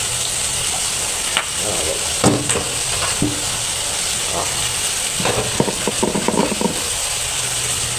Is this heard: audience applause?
no